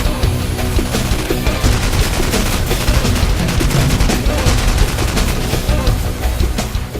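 Rapid bursts of gunfire from firearms at an indoor gun store shooting range in Las Vegas, dense and loud, with many sharp reports overlapping continuously throughout.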